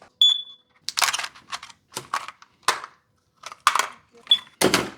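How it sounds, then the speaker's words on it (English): Two short high-pitched electronic alarm beeps from a solar power system stand out amid bursts of clattering, tapping noises, the beeps sounding at the start and again near the end. "Let me see if I can stop that alarm."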